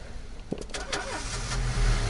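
A car engine cranks and catches in the video game This is the Police, a brief mid-pitched starter whir turning into a low rumbling idle, close and fairly loud over faint background noise.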